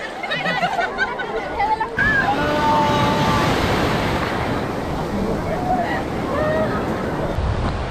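Sea waves surge and crash along Digha beach in a loud, continuous broadband roar with wind buffeting the microphone, and faint voices are heard beneath the surf.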